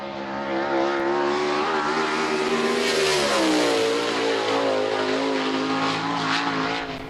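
A pushrod V8 sprint car engine revs hard and loud, its pitch climbing and shifting in a steady, close, continuous snarl with no talking over it.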